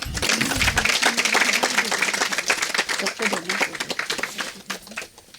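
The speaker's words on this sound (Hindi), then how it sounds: "उस ज्ञानदीप के लिए तालियां" Audience clapping at the Holi festival celebration at Poorna Ananda Ashram, a burst of sharp, uneven handclaps with a voice speaking over the start before the applause thins out.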